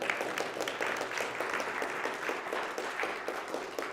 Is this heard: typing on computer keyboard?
no